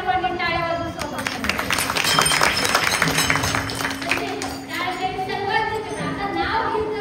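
Crowd applause welcoming young children at a devotional kirtan, dense clapping swelling for a few seconds over sustained musical tones, with voices talking throughout.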